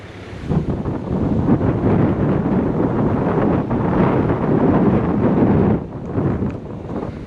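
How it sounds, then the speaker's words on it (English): Strong, steady wind of about 30 kilometres per hour on the Nullarbor Plain, buffeting the microphone with a loud, continuous roar that gusts up and briefly eases near the end. "That's that wind I was talking about."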